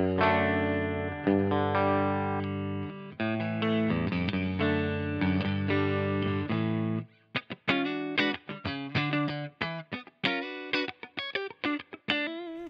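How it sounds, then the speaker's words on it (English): Clean electric guitar through a Strymon Iridium with a little reverb and a touch of tape delay: sustained ringing chords, then a run of sharp plucked notes and strums, each trailing a short echo and wash of reverb. "this is basically just a little reverb and maybe a touch of like tape delay"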